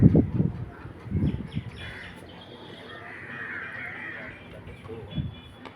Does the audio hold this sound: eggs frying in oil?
no